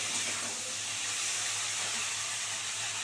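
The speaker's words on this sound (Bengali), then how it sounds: "এবারে জল দিয়ে দেবো" A steady, loud sizzling hiss of water poured into a hot pan of fried okra, holding unbroken throughout.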